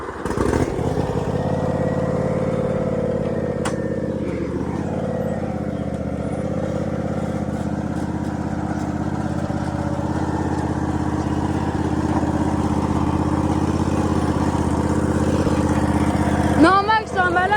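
A lawn mower engine runs steadily with a loud, continuous drone, dipping briefly and then holding its pace, while people talk over it.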